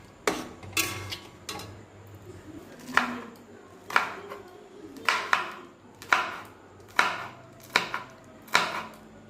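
A knife chops green chilies on a cutting board for pasta, about a dozen sharp, evenly spaced cuts in a steady rhythm, close and clear with a quiet kitchen behind them.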